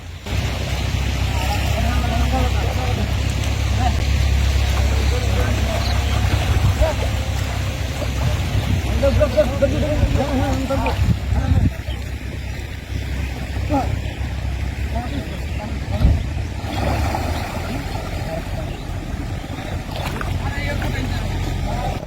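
A large fishing trawler on the rough, stormy Bay of Bengal near the Sundarbans, its engine a steady low rumble under wind and waves that persists throughout, with people talking over it.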